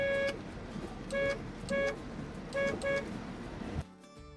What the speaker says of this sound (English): this customer came in complaining about the horn being in the wrong place